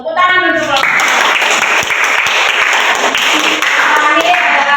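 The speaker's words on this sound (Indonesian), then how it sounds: "Tepuk tangan untuk kelompok" A classroom group claps for another group, a dense, steady patter of many hands with children's voices over it at the start and near the end.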